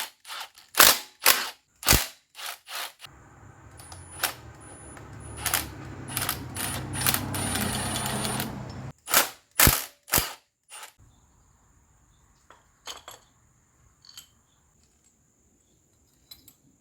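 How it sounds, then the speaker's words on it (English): A socket tool cracks loose camshaft cap bolts on a 2.7L EcoBoost engine during a teardown, sharp close clicks and snaps in bursts with a short spell of steady ratcheting whir in between, then softer scattered taps. "next it's time to move all the camshaft caps to free up all the cams and get them removed"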